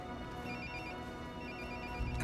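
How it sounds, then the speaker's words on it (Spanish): A mobile phone rings with a steady, repeating electronic ringtone, moderately quiet and alone without talk, filling the whole moment. "El móvil. Ya lo cojo."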